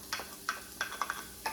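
Onions sauté in hot oil, with a quiet sizzle underneath a series of short clicks and scrapes from stirring at an irregular pace, close and fairly soft, with no talking.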